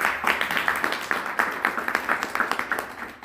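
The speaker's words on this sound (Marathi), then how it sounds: "त्यासाठी त्यांच्याकडे टाळ्या होत्या आपण." An audience applauding at a public speech event in Nashik, a dense run of hand claps at close to moderate distance, steady and sustained with slight rhythmic pulses, with a little murmuring under it.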